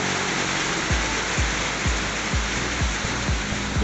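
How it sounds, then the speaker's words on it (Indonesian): Rain falling near the Curug Sewu waterfall in Kendal, a dense, steady roar of water rushing close by with faint low thumps recurring about every half second beneath it. "Dan benar sekali akhirnya hujan guys."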